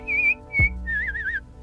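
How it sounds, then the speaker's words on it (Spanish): Cartoon baby whistling like a professional, with several clear melodic whistled phrases, one wavering with vibrato, broken by a brief low thump, set against a soft background music bed. "descubre a Maggie silbando como una profesional"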